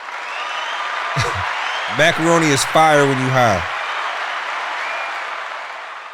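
Steady applause from a group runs throughout, with a voice talking over it in the middle.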